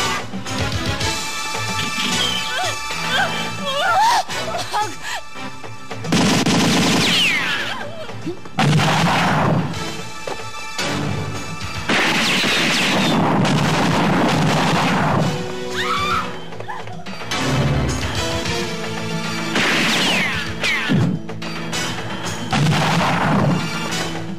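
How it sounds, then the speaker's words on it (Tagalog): Gunfire in a shootout scene from a Filipino action movie, repeated loud bursts of shots and booms in uneven clusters, mixed with shouting and dramatic movie sound. "Ay putukan na mga kaibigan!"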